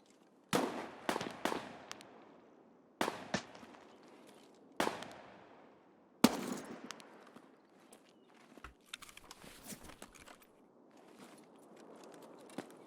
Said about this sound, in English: Pretty sure that was a shot that just went over my head.